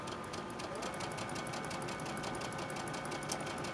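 A sewing machine chain-stitches fabric for a Christmas table runner, running in a steady, continuous rapid whir at a close, moderate level with no pauses and no talk.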